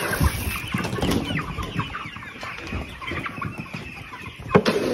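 Meat bird chickens on a farm clucking busily close by, a steady stream of overlapping clucks and short calls at feeding time.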